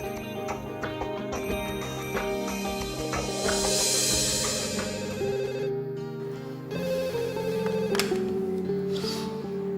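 A telephone rings on an outgoing call to be answered in an Indonesian drama, with steady repeated ring tones heard under a continuous bed of background music.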